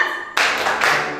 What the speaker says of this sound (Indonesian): yuk 1, 2, 3, tepuk tangan Yesus